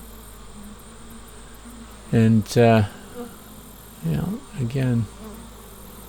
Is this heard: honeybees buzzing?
yes